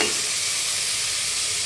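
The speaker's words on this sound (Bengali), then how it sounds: "আমি সবগুলো চিংড়ি মাছ ডেলে দিয়েছি তেল দিয়ে।" Small cleaned prawns fry in hot oil, giving a constant, close, loud sizzling hiss with no pauses or voices.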